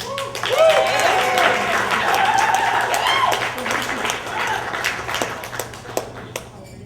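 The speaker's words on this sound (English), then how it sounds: "You can clap for her." Wedding guests applaud with sustained clapping that thins out into scattered claps, with voices mixed in underneath.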